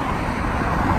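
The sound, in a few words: traffic noise on a bridge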